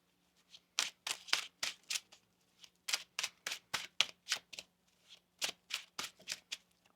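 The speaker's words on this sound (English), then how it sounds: "Let's get another shuffle there for you, Taurus. One more shuffle." Tarot cards being shuffled by hand in a run of crisp, rapid riffling bursts, each a short papery flutter with brief pauses between, close and fairly quiet over a faint steady hum.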